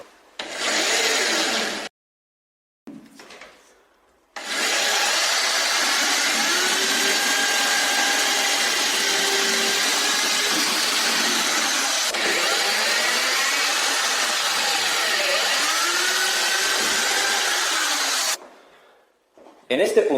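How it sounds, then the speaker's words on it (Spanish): An electric drill bores holes into a wall for plastic wall plugs while a kitchen extractor hood is being installed, a steady loud whine in long bursts broken by short pauses. "donde deberemos hacer los agujeros con el taladro, para insertar los fisher"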